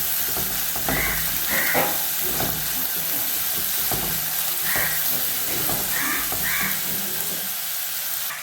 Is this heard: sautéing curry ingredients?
yes